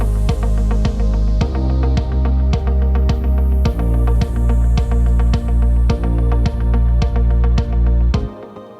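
Verse section of a 107 BPM pop EDM track, with a steady pulsing beat and sustained harmonic layers playing loud and continuous before cutting off near the end.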